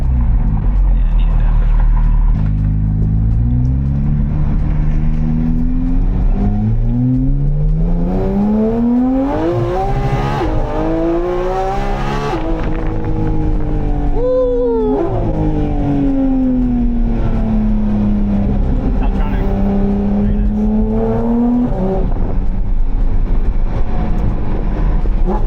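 A Porsche GT4 RS with a full titanium Valvetronic exhaust revs repeatedly up and down, loud and close, its pitch climbing and falling in long sweeps while people talk over it.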